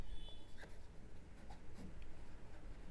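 Pelikan M200 fountain pen with a ground extra-fine nib writing calligraphy: faint, steady scratching of nib on paper, close up, against a soft background hiss.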